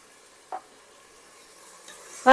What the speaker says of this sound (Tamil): இதை நல்லா கிளறி விடுவோம்